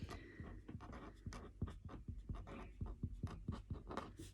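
Handwriting an answer during a grade-eight math lesson on solving systems of equations: a faint, steady series of short pen or marker strokes scratching across a writing surface, close and alone without talk.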